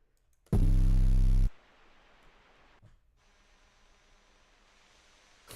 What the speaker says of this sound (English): over the entire beat, I have this static going.